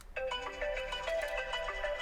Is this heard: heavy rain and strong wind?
no